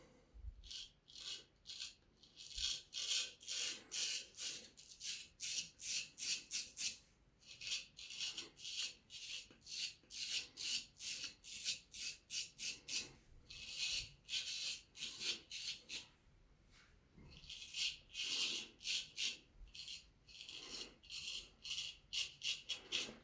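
A straight razor shaves against the grain in a run of quick, crisp scraping strokes with a rasping, rhythmic texture, pausing briefly twice before the strokes resume.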